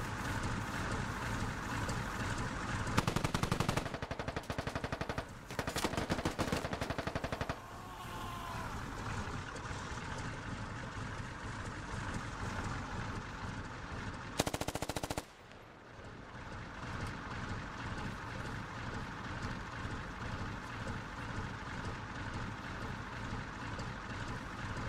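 Gunfire in the SquadOps video game during a one-life operation on Nightmare difficulty, with bursts of automatic fire and single shots over steady vehicle and ambient rumble, loud and close, then a sudden drop and quieter continuous engine drone.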